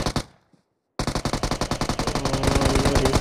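Rapid automatic gunfire in a video game match, a brief pause and then a steady, fast stream of loud shots that grows denser and heavier toward the end.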